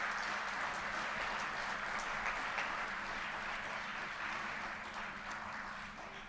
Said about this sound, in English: So a round of applause for all those who've brought us together today and done all that work.